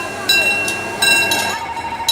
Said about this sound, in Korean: 5일장 옆 기찻길로 기차가 지나간다.